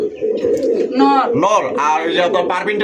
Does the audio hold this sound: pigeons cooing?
yes